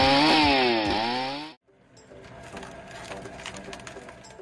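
A homemade firewood processing machine's chainsaw bar cuts through a log with a loud, revving whine that falls in pitch, then stops abruptly, leaving faint mechanical clatter and outdoor ambience.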